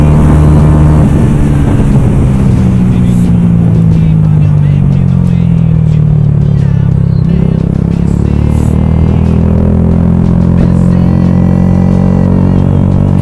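A Yamaha YZF R125 motorcycle with a Nakaprovia exhaust rumbles loudly and continuously up close, its exhaust note rising and falling as the throttle is blipped and revved.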